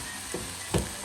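Brandy flames up in a hot pan for sauce Nantua. A continuous sizzle sits underneath, and two soft whooshing bursts of flame rise briefly, the second one louder.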